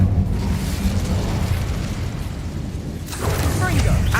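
An Incendio fire spell is cast in Hogwarts Legacy, giving a loud, roaring whoosh of flame and blast that runs throughout and swells again near the end.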